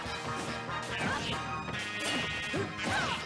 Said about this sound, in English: And smash attack for smash attack.